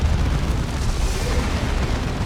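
An orbital bombardment in Dawn of War 2 on a battlefield with a Land Raider, a Baneblade and a Carnifex, heard as a continuous heavy rumble of explosions that stays loud and dense throughout, with no voices.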